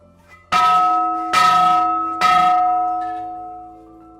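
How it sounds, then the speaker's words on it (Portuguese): A church bell rings three times, each loud clang ringing out and slowly fading, with the last stroke decaying into silence. "Três badaladas, sino tocado."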